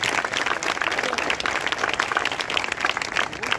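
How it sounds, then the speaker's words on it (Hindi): Loud, continuous applause from an audience at a school programme welcoming a guest, dense steady clapping filling the whole moment with no speech over it. "ज़ोरदार तालियों के साथ"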